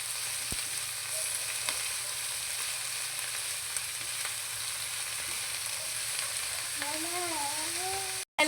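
Cabbage frying and being stirred in a pan, a steady soft sizzle running throughout with faint scraping, ending in a brief cutoff.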